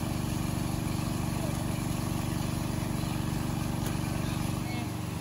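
A Robin engine driving a water pump for gold hunting runs continuously: a loud, steady mechanical drone with a fast, even low pulsing and no change in pace or level.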